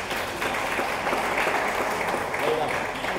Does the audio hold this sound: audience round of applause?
yes